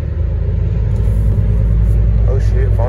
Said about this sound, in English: That was probably the first time I heard my car get loud just now.